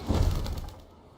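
A brief, close bird call from a huge bird in Genshin Impact, a soft low cooing burst with a thump that fades within about a second.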